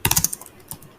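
Quick clatter of keys on a computer keyboard while a web automation workflow is being built, a short burst of about six strokes, a pause, then a few more isolated taps, close and crisp with no talking.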